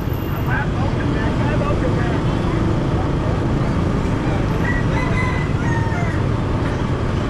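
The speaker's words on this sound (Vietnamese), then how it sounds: "đây là chợ gà" Chickens at a street chicken market in Saigon crow and cluck amid a steady roar of traffic and city noise, with people talking in the background.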